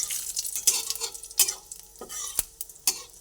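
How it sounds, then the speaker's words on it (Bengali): Cumin seeds and broken dry red chilies fry in oil, making a quiet crackling sizzle punctuated by several sharp clicks and scrapes of a spoon stirring against the pan. "সাদা জিরে আর শুকনো লঙ্কা দুটোই ভাজা হোক"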